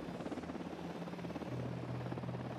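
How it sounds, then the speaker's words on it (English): A helicopter's rotor thrums steadily at close range in the video game Ghost Recon Wildlands, a low pulsing drone with a broad noisy wash over it and no voices. "Chopper's approaching."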